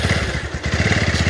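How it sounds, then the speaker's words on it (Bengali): A big motorcycle passes nearby, its engine a loud, steady throbbing with rapid rhythmic thumps and some rattling clatter across the whole stretch. "এখন বড় বাইক আসছে।"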